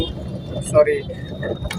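Road traffic in Bhajanpura near metro and flyover construction, a close, continuous vehicle rumble with brief metallic rattles as someone talks over it.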